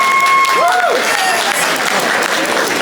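Lively applause from an audience at a Christmas dinner, loud and continuous, with a whoop or whistle early on and some voices mixed into the crowd noise.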